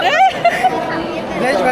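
A large crowd chattering near the Wagah Border in India, a close, steady babble of many voices with louder individual calls rising above it.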